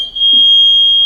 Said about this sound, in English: This is a buzzer.